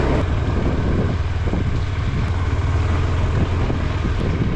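A KTM 390 Adventure motorcycle rides slowly through snow-covered terrain, its low engine rumble steady and close beneath heavy wind buffeting across the microphone.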